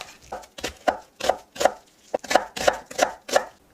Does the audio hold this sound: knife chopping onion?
yes